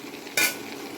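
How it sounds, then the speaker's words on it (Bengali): A jujube pickle mixture fries in a pan as a soft continuous sizzle, with one short louder burst of stirring or spattering partway through. "দেখো একটু ভাজা ভাজা হচ্ছে"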